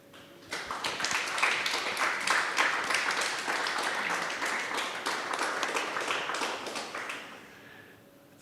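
Sustained applause fills the hall at the Geneva Red Cross general assembly as members elect by acclamation, many hands clapping steadily for about seven seconds before it fades out.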